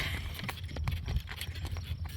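A horse's hooves clip-clop in a quick, uneven walking rhythm close by, each strike short and distinct against a faint background.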